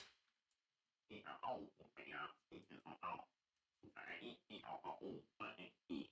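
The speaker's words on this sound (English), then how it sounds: "like a vocal doubler from Isotope" An iZotope vocal doubler thickens a recorded vocal into a widened double-tracked sound. It is quiet, with short voiced bursts broken by brief gaps.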